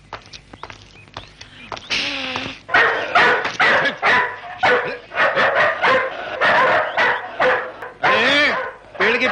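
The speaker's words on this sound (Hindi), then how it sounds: "जरा ये अपने कुत्तों को साइलेंसर लगाओ। इतनी जोर से भौंकते" Several dogs bark loudly and repeatedly up close in rapid overlapping bursts, with yips and whimpering whines mixed in.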